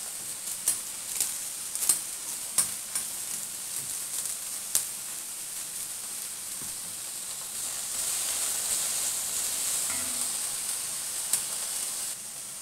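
Salem red chillies dry-roasting in a pan, a faint steady hiss with scattered sharp ticks and crackles as they are stirred, close by and without talk.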